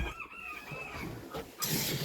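Domestic chickens in a small backyard flock cluck softly at close range, with short drawn-out calls and a louder rustling burst near the end, no talking.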